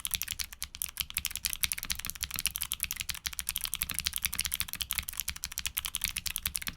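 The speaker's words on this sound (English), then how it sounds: "Reserves. Take a listen to how they sound." Rapid, continuous clacking of Invokeys Reserve mechanical keyboard switches under fast typing, a dense stream of crisp keystrokes at close range with no talking.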